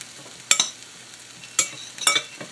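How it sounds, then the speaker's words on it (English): Stirring grated Parmesan cheese into a tilapia and broccoli dish in a pan, three short scraping strokes close up over a quiet background. "we're going to kind of like mix it up here a little bit"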